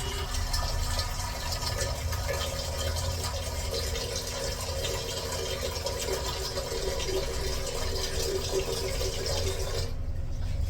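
Tap water runs steadily into a cooking pot for chicken, a continuous close rushing splash that holds evenly for about ten seconds before cutting off.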